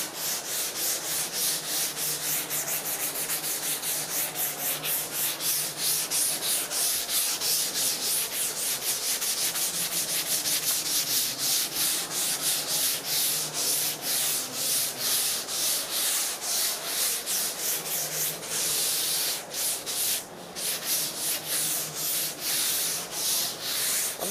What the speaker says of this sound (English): now we are ready to do a little finish sanding on the deck here